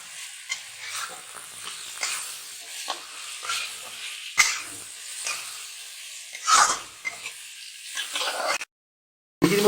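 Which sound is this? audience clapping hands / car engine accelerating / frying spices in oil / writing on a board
frying spices in oil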